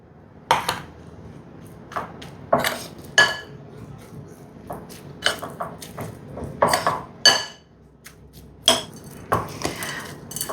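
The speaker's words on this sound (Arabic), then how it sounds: "بس تأكدنا إنه الشوكولات كامل غلف الكورن فليكس، نخلط معهم الكاكاو" A spoon clinks and scrapes against a bowl in irregular bursts as chocolate-coated cornflakes are stirred with cocoa, close and crisp with quiet pauses between strokes.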